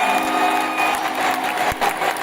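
Crowd applauds at a university welcome event with a slam performance, continuous clapping with faint cheering mixed in and a few sharp louder claps near the end.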